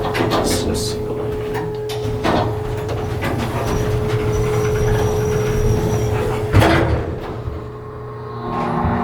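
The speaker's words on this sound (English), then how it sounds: "Instant door close." A Montgomery hydraulic elevator door at Pigott Hall, Stanford University, slides shut amid a steady low machinery hum, ending in a single solid thud near the end.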